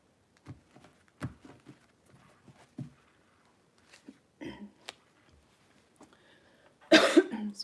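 A person coughs several times in separate bursts from a tickle in the throat, fairly close and quiet, ending in a louder, harsher cough.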